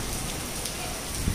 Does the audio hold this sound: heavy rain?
yes